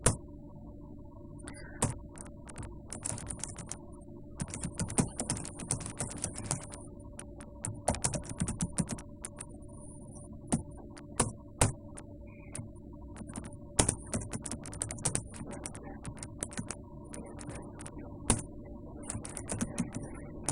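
Typing on a computer keyboard while writing a project readme: steady bursts of close key clicks with short pauses, alone without talk, over a faint background hum.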